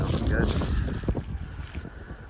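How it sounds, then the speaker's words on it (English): Outdoor wind buffets the microphone in gusty, low rumbling swells that rise and ease over a couple of seconds, with no clear voices. "It's a little windy out, so I hope the audio turns out good."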